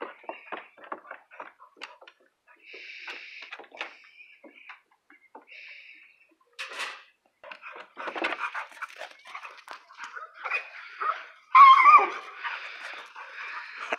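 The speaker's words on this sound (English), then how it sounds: "I think he's like barking out in happiness." Several short dog barks and yips scattered across the clip, with playful whines and scuffling, fairly close and of moderate loudness.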